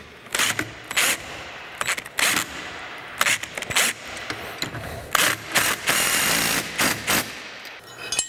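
Bolts on a TowTector towing mud flap bracket are tightened in short, loud bursts of a power tool, with rapid ratcheting rattles separated by brief pauses.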